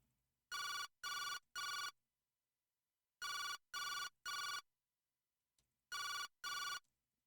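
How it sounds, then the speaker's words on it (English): A cell phone in a video game rings in three short chirping bursts, pauses, repeats another set of three, then two more, loud and electronic with silence between groups. "I heard my cell phone ringing from my jacket pocket."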